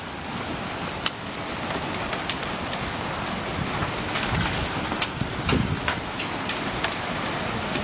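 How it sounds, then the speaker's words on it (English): Tiny hailstones falling outdoors make a steady, dense patter with scattered sharper ticks and taps throughout, fairly close and unbroken, with no talking. "Hailing."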